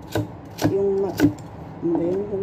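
Three sharp knife chops land on a cutting board about half a second apart, close by, chopping vegetables for a tomato sauce, followed by a softer tap, with a voice briefly humming between strikes.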